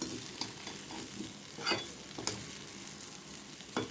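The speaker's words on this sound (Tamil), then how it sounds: "அடுத்தது பருப்புக்கு தாளிப்பு தான் வேறு ஒன்றும் இல்லை" Tempering spices sizzle in an aluminium pan for dal, a close crackling fry broken by a few sharp stirring scrapes and clicks of a tempering ladle.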